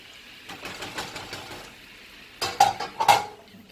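Apples stirred in browned butter in a pan, with a few soft scrapes early on, then a cluster of sharper utensil clinks and knocks against the pan near the end, close and fairly quiet.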